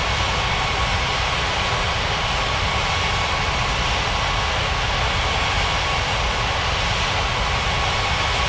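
A jet airliner's engines whine and roar steadily while it taxis in an air traffic control game, loud and unbroken, with no voices.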